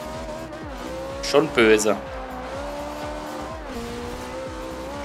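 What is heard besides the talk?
car tires spinning in Forza Horizon 2 video game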